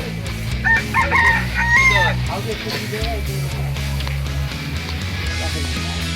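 A rooster crows and hens cluck amid a busy festival fair at Kasari ghat, Goalpara, Assam, with a chicken lottery stall, people talking and steady background hubbub throughout.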